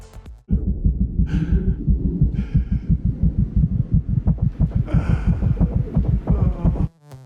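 Human heartbeat picked up by a microphone strapped to the chest, a loud, fast, steady thumping pulse filling the foreground without pause, with faint breathy rustles above it.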